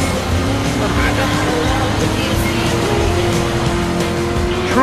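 A Shelby GT-500 driven hard in Driver San Francisco gives a steady, loud engine drone with a rising tone and occasional faint tire noise, continuous throughout.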